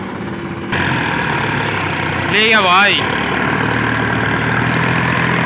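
A Sonalika 35 tractor hauling a full load of wood; its engine drones steadily and loudly throughout, with someone speaking over it and a brief warbling voice in the middle.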